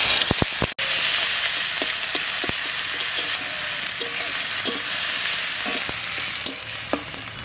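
Onion paste sizzles and fries in a pan while being stirred, a steady close frying hiss broken by repeated scraping strokes of the spoon, made in a grandmother's home cooking of winter vegetables.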